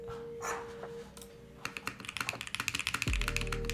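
Keystrokes on a Bauer Lite keyboard with a PBT spacebar, coming in after a brief quiet rustle and speeding up into a quick clacking run, with a deeper thump near the end.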